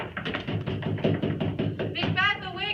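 Knocking on a door during a stage performance of Macbeth: a string of short, sharp knocks comes through under voices speaking throughout.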